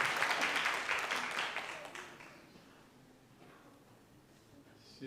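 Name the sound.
audience applause welcoming a church speaker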